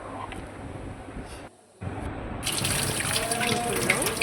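Chopped green chillies are rinsed under a running tap, water gushing steadily into a bowl, pausing briefly before a louder, fuller stream resumes.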